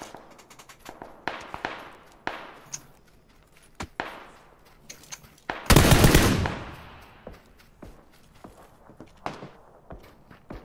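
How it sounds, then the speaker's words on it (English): Gunfire in the battle royale game PUBG: scattered sharp shots and short bursts across the scene, with one loud, dense volley near the middle, mixed with fainter distant pops and footstep-like clatter. "He's about to shoot us."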